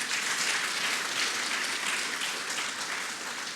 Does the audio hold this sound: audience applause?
yes